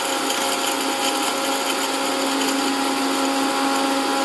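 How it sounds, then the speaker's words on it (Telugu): An electric mixer grinder grinding roasted peanuts and sesame seeds whirs loudly and steadily with a constant high-pitched motor whine, close up and uninterrupted, with no talking. "తర్వాత మిక్సీ పట్టుకుందాం."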